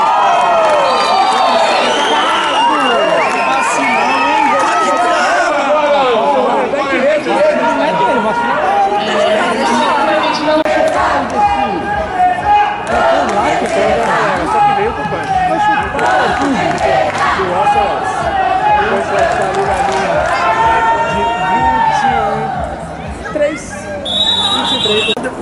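Football crowd in the stands cheering and shouting continuously at an American football game, loud and dense with chanting voices and babble throughout, easing slightly near the end.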